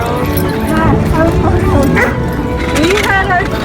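Dogs bark, yip and whimper in a dense, loud overlapping burst, mixed in with music and talk from a reality-competition season finale, continuing steadily throughout.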